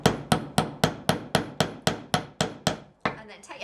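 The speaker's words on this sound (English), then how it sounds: "hold it while you knock in the first pin" A hammer drives a nail into a wooden bug hotel frame with eleven sharp, evenly spaced knocks at close range, each ringing briefly before the next, then a softer pause and a final scrape.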